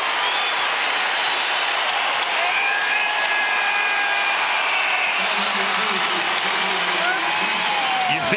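A basketball crowd at a Kansas State versus Texas Tech NCAA game applauds in a sustained, dense roar after a hustle play. Commentators talk over the steady clapping.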